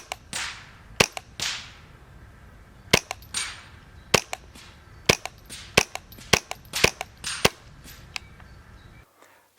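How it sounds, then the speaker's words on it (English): A suppressed Smith & Wesson M&P 15-22 Performance Centre Sport semi-automatic rifle with an 18-inch barrel fires subsonic .22LR, giving a quick irregular string of sharp, fairly quiet cracks, about a dozen close shots with brief pauses, and no talking. "I did put a sound moderator on it because shooting subsonic ammunition, you get a beautifully effective, very, very calm, quiet rifle"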